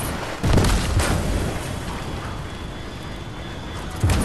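Gunshots in the video game Fortnite: a couple of loud booming blasts, one near the start and another at the end, with a lingering rumble between them.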